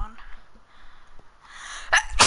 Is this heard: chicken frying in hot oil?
no